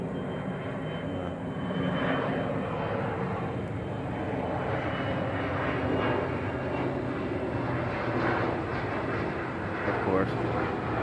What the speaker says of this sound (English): And we got a plane up there.